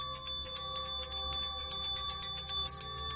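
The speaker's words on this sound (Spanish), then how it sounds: "Podemos seguir tocando su campana nuevamente." A small bell rings rapidly and repeatedly, bright metallic strikes in a steady jangling rhythm close by, with no voices.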